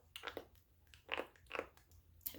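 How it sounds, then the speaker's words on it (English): Elderly sheep crunching on a plastic feeding tube, several faint close crunching bites in an irregular rhythm against a quiet background. "he's getting so old that you can hear him crunching and he's going to destroy my tube"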